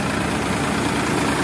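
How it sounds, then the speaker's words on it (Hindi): A fully modified Farmtrac 45 tractor engine idles with a steady, loud, close diesel rumble and constant vibration. Nobody speaks. "ये अपना ट्रैक्टर है"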